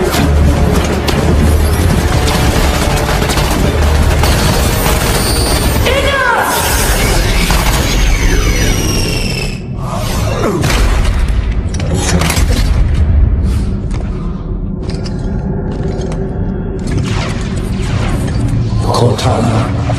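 Dense video game battle noise of gunfire and explosions, loud booms, crashes and rapid shots layered over one another, with voices shouting briefly in the mix.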